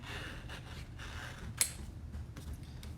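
Golden scissors cut paper along printed lines in a quiet room, giving soft crisp snips with one sharper click near the middle over faint background rustle.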